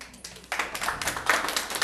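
An audience at a Placerville city council meeting breaks into applause, scattered claps at first and then a steady, moderately loud patter of many hands.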